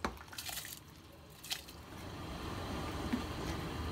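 Soaked rice tipped into a pot of boiling water while making beef yakhni pulao, giving a few soft splashes and wet squishes near the start over a steady low bubbling rumble, with no talking.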